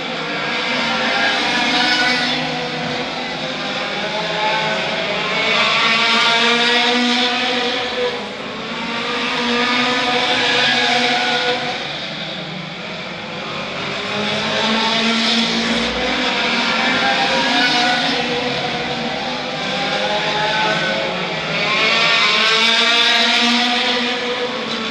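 Autocross race cars roar around the Arena Essex track in a loud, continuous engine drone that swells and fades in waves as the cars lap past, with several engines overlapping.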